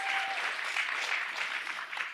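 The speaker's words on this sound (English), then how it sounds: "Come on, big round of applause." Audience applause at a live conversation event with an MP, steady and fairly faint, with no talking over it.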